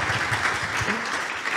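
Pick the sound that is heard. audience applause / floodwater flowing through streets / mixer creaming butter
audience applause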